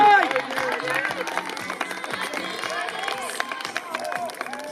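Spectators applaud and cheer a runner during a 2000 m race at an athletics meeting in Poljane, Maribor, steady clapping mixed with crowd babble and an announcer's voice talking over it throughout.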